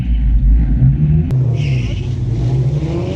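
A Fox Body Mustang engine roars at a burnout contest at a Mustang event, a loud, close, rumbling rev with a sharp crack partway through and a roughly rising pitch afterward.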